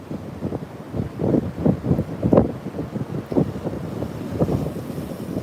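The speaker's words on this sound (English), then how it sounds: "I hope you can hear me against this wind." Strong coastal wind buffeting a microphone by the ocean, with breaking waves nearby, a loud low rumbling roar in uneven gusts throughout.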